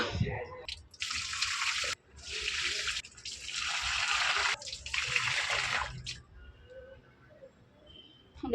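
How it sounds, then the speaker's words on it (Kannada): Water gushes from a hose or tap onto garden plants in three loud bursts of several seconds each, followed by quieter dripping and splashing. "ನಾನು ಫಸ್ಟ್ ಗಿಡಕ್ಕೆ ನೀರು ಹಾಕಿ ಬಂದುಬಿಡ್ತೀನಿ"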